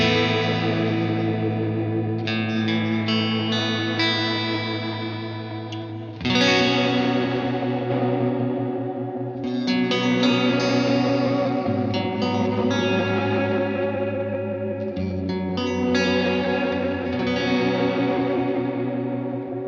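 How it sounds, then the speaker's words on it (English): Electric guitar chords ring out continuously through an Alexander Space Force reverb pedal's lo-fi setting, washed in heavy reverb with a wavering, chorus-like modulation shimmer and slight distortion. "Let's turn on the lo-fi reverb sound."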